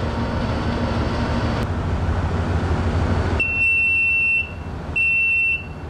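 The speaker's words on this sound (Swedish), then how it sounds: "Vad var det som larmar nu?" Electronic alarm buzzer aboard a North Sea herring purse-seining fishing boat, sounding two steady high-pitched tones over loud constant engine rumble.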